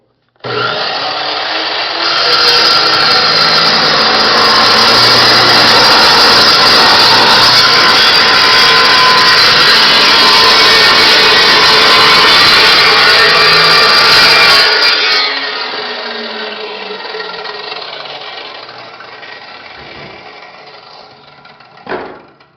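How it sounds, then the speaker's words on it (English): A loud power saw cuts through quarter-inch steel plate in one long, harsh, grinding roar lasting about thirteen seconds, then winds down as the blade spins to a stop. "Let me put on my earmuffs because this saw is loud."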